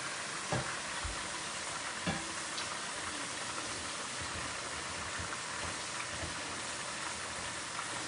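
Pork chops frying in a pan make a steady, fairly faint hiss and crackle that runs throughout, with a few soft clicks and pops scattered through it.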